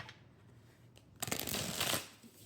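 Llewellyn cardstock tarot cards being shuffled close by, a soft riffle building into a louder, dense flutter for about a second before settling.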